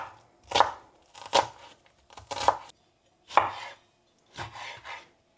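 A knife chops potatoes, onions and tomatoes into small pieces on a cutting board, with five separate bursts of rapid close chopping and short quiet gaps between them.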